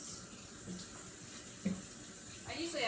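Tap water runs steadily into a sink being rinsed out after cleaning around the drain, a broad, even splashing hiss that continues without pause, close by.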